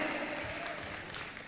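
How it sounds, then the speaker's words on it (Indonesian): Audience applause greeting a performing group at a crowded public event in Pekanbaru, Riau, a dense, even wash of clapping and crowd noise heard from a distance, steady for the whole moment. "Tepuk tangan yang meriah."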